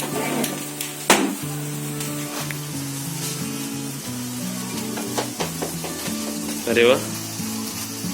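A sparkler fire candle fizzes and crackles on a celebration cake, a continuous bright hiss under background music, with a brief excited exclamation and a few sharper bursts.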